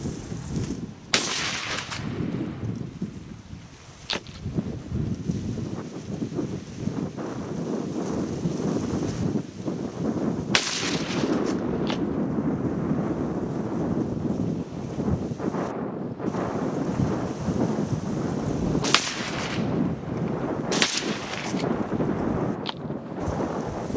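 Lee-Enfield No 1 Mk III and No 4 Mk I rifles fire at an outdoor range, a few loud sharp shots spaced several seconds apart over steady wind buffeting the microphone.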